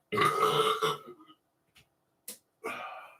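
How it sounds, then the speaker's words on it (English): A long, loud, rumbling burp close to the mic, followed by a brief pause, a short breathy sound, and a second shorter burp-like noise. "I can't believe your burp was that loud"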